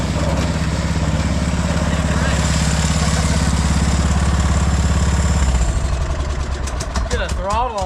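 A racing lawnmower engine runs loud and close with a steady, buzzy idle that keeps its pitch, then revs up and down near the end.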